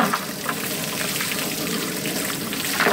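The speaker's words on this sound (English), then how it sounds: "We are gonna just rinse it all out." Water rinses out a quarantine fish tank, a steady close splashing rush with faint drips and spatters throughout.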